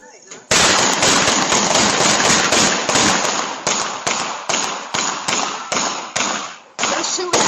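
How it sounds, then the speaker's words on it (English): A rapid string of loud, sharp gunshots rings out in a shootout near a residential doorstep, roughly a dozen cracks in quick irregular succession, caught at close range by a doorbell camera. "They're having a shootout."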